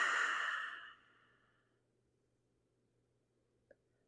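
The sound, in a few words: exhaling out through the mouth during yoga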